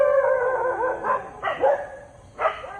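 A few sharp dog barks and yips in quick succession, fairly close, with short pauses between them.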